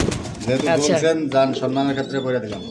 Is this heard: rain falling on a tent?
no